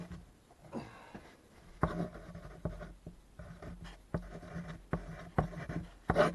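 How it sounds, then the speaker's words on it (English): Pen writing a quick note on paper, with short scratchy strokes and taps in irregular bursts, close and fairly quiet, no talking. "I'm just going to write that down."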